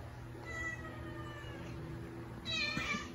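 Cats meowing indoors, two drawn-out meows, the first soft and the second louder and higher, over a low background hum.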